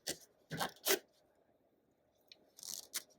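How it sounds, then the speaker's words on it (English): An old zipper on a sewn 1940s-style skirt closes in a few quick, crunchy rasps, heard as three close bursts followed by a pause and two more. The sound is near and fairly quiet, with no talk. "And it closes. This zipper is ancient."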